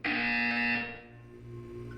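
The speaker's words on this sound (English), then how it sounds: "When you hear the buzzer, look down at the floor." A loud electronic buzzer from the video game Portal 2 sounds once, a harsh steady tone that cuts off after under a second, leaving a quieter hum.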